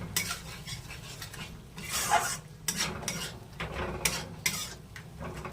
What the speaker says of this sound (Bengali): টক দইটা দিয়ে ভালো করে নাড়তে হবে, একভাবে নাড়তে হবে।